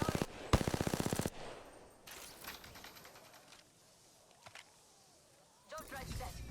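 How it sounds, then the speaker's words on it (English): Bursts of rapid automatic gunfire in Apex Legends: a loud, fast burst at the start, then a softer rattle, scattered single shots and another burst near the end, with people talking between the shots. "They're shooting at me."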